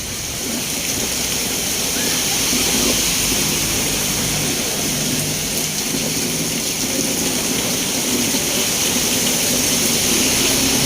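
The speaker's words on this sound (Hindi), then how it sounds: "अब बारिश थोड़ी तेज़ हो गई है" Heavy rain pours onto Tepo Road in a continuous, dense hiss of falling water, loud and unbroken for the whole stretch with a faint low rumble beneath it.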